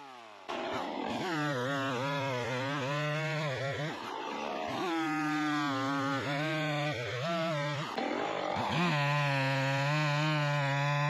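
A Kitio CS2520S chainsaw cuts firewood outdoors, its engine whining loudly and continuously, pitch dipping as the chain bogs into the wood and climbing again between cuts.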